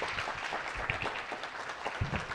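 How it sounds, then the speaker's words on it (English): A college audience at a Berkeley student event gives a round of applause, a dense steady wash of many hands clapping together at moderate volume for a couple of seconds, with no talk over it. "Give them a round of applause."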